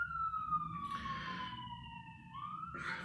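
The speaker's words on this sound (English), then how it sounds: "friggin' ambulance ruined my video" A passing ambulance siren wails in a steady, drawn-out tone that slowly falls in pitch and then rises again, moderately loud over low traffic rumble.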